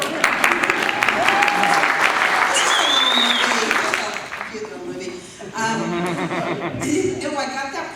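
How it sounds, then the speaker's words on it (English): A live convention audience applauds in a burst of clapping mixed with chuckles, while a speaker keeps talking over it and the clapping fades within a few seconds. "You can applaud, of course you can."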